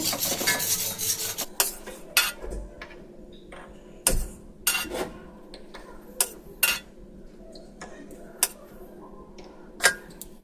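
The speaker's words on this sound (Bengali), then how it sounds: "তো আমি এইভাবে একটুখানি সমানে নাড়িয়ে এটাকে ঠান্ডা করে নেব।" A spoon stirs a chocolate ice cream mixture in a wok to cool it, making repeated close metallic scrapes and knocks at an uneven pace, with softer rubbing sounds between strokes.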